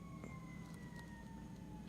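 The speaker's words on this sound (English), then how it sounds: "sounds like there's an ambulance outside." An ambulance siren sounds from outside, faint and distant, holding steady wavering tones under a low background rumble throughout.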